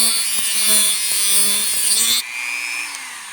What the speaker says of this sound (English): we're going to take a Dremel with a little cutoff wheel, and we're going to run it back and forth